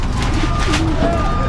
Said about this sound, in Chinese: He's feeding pigeons.